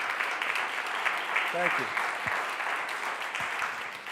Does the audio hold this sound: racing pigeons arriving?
no